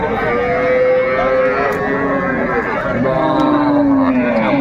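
Cows and calves low repeatedly at a busy cattle market in Raniganj, several drawn-out moos overlapping against a steady crowd murmur and chatter.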